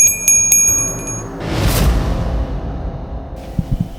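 A small bell rings with a few bright, quick strikes at the start, followed by a whooshing rustle and some low thumps.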